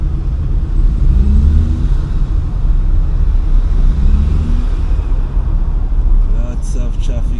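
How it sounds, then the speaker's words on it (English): Busy street traffic in Kingston, Jamaica, with a steady loud rumble of car and truck engines passing close by and occasional revving, continuous throughout while a voice talks over it. "Lots of traffic here."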